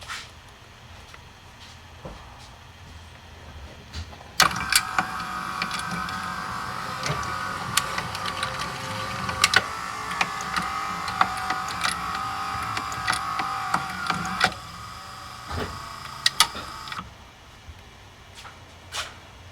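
A Mercedes 300D radio power antenna motor runs for about twelve seconds, a steady whining electric drone with clicks and clatter as the mast travels, starting and stopping abruptly.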